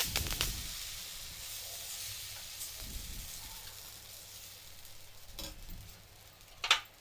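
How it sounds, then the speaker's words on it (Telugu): Dosa batter fries in oil on a hot griddle pan, a faint steady sizzle broken by a few soft scrapes and one sharper clatter near the end. "పెనం బాగా హీట్ అయిన తర్వాత ఒక గెరిటి దో దోశ బ్యాటర్ అనేది వేసుకొని బాగా స్ప్రెడ్ చేసుకోవాలి"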